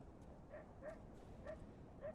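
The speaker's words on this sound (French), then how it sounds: "Là, j'ai clairement entendu un chien." A small dog in the video game Lies of P yips and barks several times in a steady rhythm, fairly faint and thin, over a low background hum.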